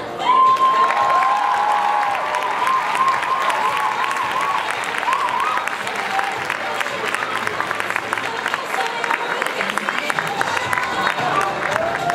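A student audience at a Malaysian cultural night breaks into loud applause with scattered cheers, a sustained crowd roar that carries on for many seconds, with a tonal hum early on and a voice faintly over it.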